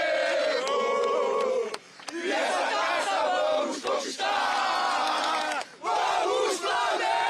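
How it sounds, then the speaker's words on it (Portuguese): A large crowd of Flamengo football supporters in Costa Verde chant and sing loudly in unison before a Libertadores final, rhythmic phrases separated by brief pauses, close and powerful. "Pedir então pro torcedor cantar a música do Flamengo aqui"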